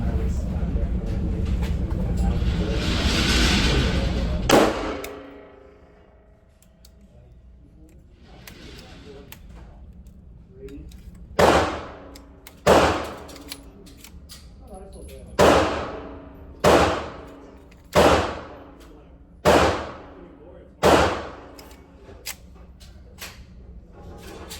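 A 9mm 2011 Monolith pistol fires at a range after a stretch of steady roaring noise: about eight sharp, loud cracks, each with a short decaying tail, spaced irregularly over roughly eleven seconds.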